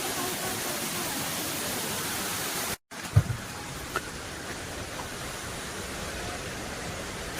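The Areekkal waterfall gives a steady, dense rushing roar, broken by a brief dropout partway through, then continuing slightly softer with a few small knocks close by.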